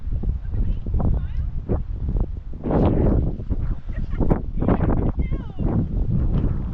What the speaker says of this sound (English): And again, sorry about the wind.